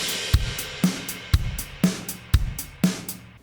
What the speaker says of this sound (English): on that very first kick, we're gonna hit both crashes, then move to the hi-hat